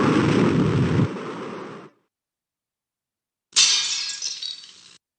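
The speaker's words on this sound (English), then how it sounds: "Oh, sounds like glass." Glass shattering, a computer-animation sound effect: a loud crash with dense crunching shards that fades out, then after a gap a second bright burst of breaking glass with tinkling debris, heard alone.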